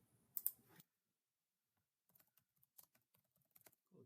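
Faint computer mouse clicks during modeling software work, a short burst of clicking near the start and then scattered soft clicks and taps spaced irregularly toward the end, quiet and close.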